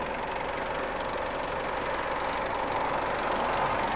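A stock 2.5-litre diesel engine in a 2014 Isuzu D-Max Spacecab with manual gearbox idles close by, giving a steady, even clatter and rumble with no talking.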